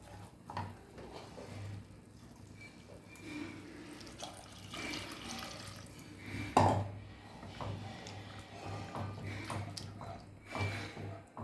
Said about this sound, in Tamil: இப்போ நம்ம வந்து தேவையான அளவு தண்ணி விட்டுடலாம்